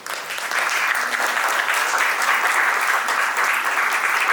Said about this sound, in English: So can we have a standing applause?